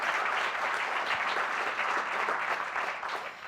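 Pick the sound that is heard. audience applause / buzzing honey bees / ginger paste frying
audience applause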